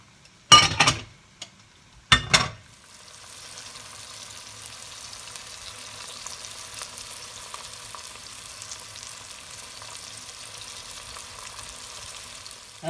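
Calamari pieces and scallops frying together in a pan, giving a steady close sizzle that runs continuously after a couple of brief clattering clinks at the start.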